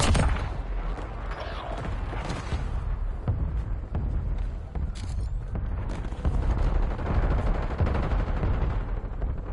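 Nail gun fire in Call of Duty Warzone, a dense burst-heavy stream of rapid mechanical shots and impacts, loud and close, with game effects layered throughout.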